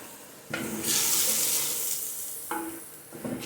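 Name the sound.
stirring haleem with shahi haleem masala in clay pot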